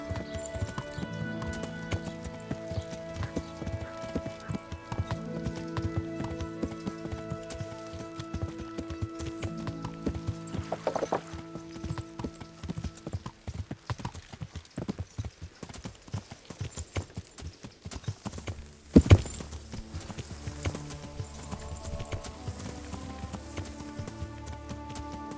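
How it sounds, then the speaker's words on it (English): Horse hooves clip-clopping in steady rhythm during riding in Kingdom Come: Deliverance, mixed with game music and ambient tones, plus a brief louder burst partway through. "My brilliant horse riding"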